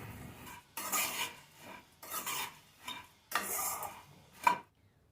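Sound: puffed rice (mamra) being stirred and roasted in a pan

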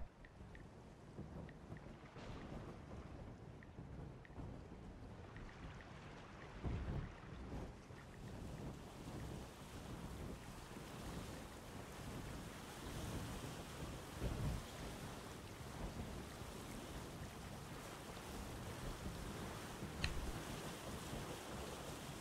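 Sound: thunderstorm at sea in video game Windbound

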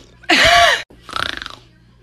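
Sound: human imitating a growl

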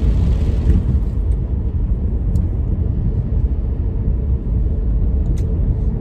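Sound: car driving

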